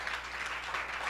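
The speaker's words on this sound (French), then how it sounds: "maintenant, doit applaudir Kayankay." A church congregation applauding, a dense steady wash of clapping filling a large room.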